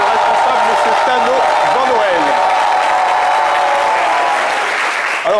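Studio audience applause during an Ivorian midday television show, dense continuous clapping that stays loud for the whole stretch, with a voice speaking over it.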